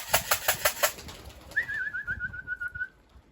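Young homing pigeons on a loft roof: a few soft wing flaps or coos near the start, then a steady, faint whistling trill carrying on for over a second in an otherwise quiet outdoor setting.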